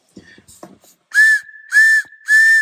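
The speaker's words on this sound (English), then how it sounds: "we just simply blow in this to create an emergency whistle" Three loud, steady blasts on an improvised wooden emergency whistle, each about a second long with short pauses between, follow some soft handling noises.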